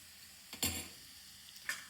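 Green chilies frying in a pan in a rustic village kitchen, with a couple of brief sizzling bursts and a stir, short and close, against a quiet background.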